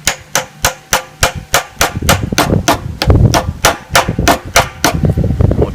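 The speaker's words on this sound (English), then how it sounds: "you just hammer it in." A hammer strikes through a piece of wood to drive a front sight into an M&P Shield pistol slide, giving a fast, steady run of about twenty loud, sharp knocks close by.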